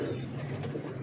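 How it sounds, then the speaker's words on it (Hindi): A pigeon gives a soft, close, steady coo that runs unbroken for about a second, with no talking over it. "ये चोई साहब वाला कबूतर है"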